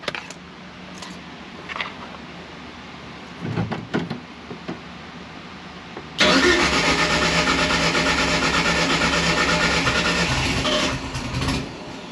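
An engine cranks over and catches after quiet rustling, then settles into a loud, steady idle for about six seconds before easing slightly at the end.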